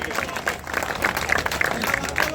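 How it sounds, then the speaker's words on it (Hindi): Audience at a mushaira poetry gathering breaks into lively applause, dense clapping from the crowd filling the short moment with a few sharper claps rising above it. "एक बार जोरदार तालियां"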